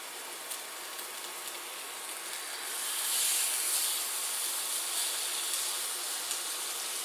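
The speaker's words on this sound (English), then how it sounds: "I'm going to go on and put them in my frying pan." Steady hissing sizzle of steaks frying in a hot cast iron skillet on an induction cooktop, constant and close, swelling slightly partway through.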